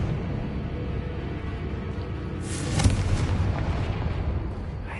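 A Confringo blasting spell goes off in a wizard video game, one muffled explosive burst near the middle over a constant low rumble of game background noise.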